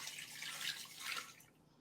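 Bouillon broth, four cups mixed from cubes, poured over a roast in a crock pot, giving a steady splashing, trickling pour for under two seconds, fairly close and alone, tapering off at the end.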